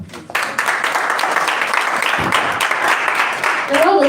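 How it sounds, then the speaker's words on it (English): An audience at a live university pharmacy-students event applauds a team and the judges, steady mid-distance clapping across the room, with a voice briefly heard over it. "A round of applause once again for Team Amaze and our wonderful judges."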